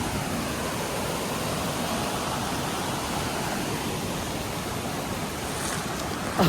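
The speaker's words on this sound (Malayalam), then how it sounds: "നമ്മൾ ചെറിയൊരു അരുവി കാണാൻ വന്നു." A small stream flows nearby as a steady, even rushing wash of water, with no talk over it and a slight swell right at the end.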